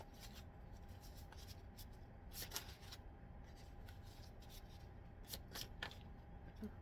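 A deck of cards being shuffled by hand, soft rapid riffling and rubbing bursts in uneven clusters, close but quiet over a faint steady hum, with no talking.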